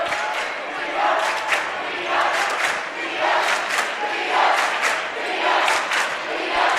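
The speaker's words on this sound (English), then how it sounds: "they got a great cheering section here" Student cheering section at a high school boys' basketball semifinal, Thompsonville fans roaring and chanting in steady loud waves that swell and fall across the whole stretch, with no clear talk on top.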